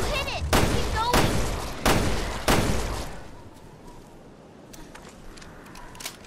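Four heavy, booming gunshots ring out at steady intervals in Resident Evil Revelations 2, fired at an invisible monster; each blast decays into a reverberant tail, followed by quieter rustling and faint clicks.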